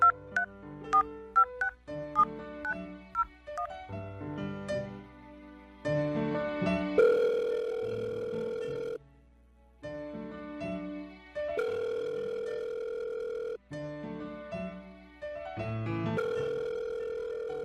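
Telephone call being placed: a quick sequence of dialing tones followed by repeated ringback tones in a steady on-off rhythm, clear and close with no talk.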